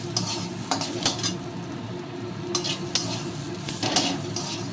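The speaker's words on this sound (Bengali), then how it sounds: "পরিমাণ মতো হলুদটাও দিয়ে নিয়েছি একসঙ্গে ভেজে নিচ্ছি" Steady sizzling of spices and turmeric frying in a pan, with scraping stir strokes and occasional clinks of a utensil against the metal.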